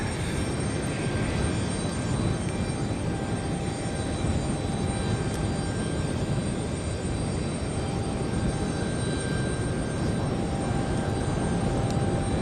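Embraer E195-E2 demonstrator jet arriving at London City Airport, a steady loud engine roar that holds throughout without any voices.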